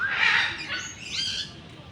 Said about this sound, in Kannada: ಇದೊಂದು ಪಕ್ಷಿನೇ ನೋಡಿ, ಇದೊಂದು ಪಕ್ಷಿನೇ.